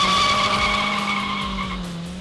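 The Toyota Igo Crazy, a one-off custom car, skids with a sustained, loud tire squeal that holds steady and fades slightly over about two seconds.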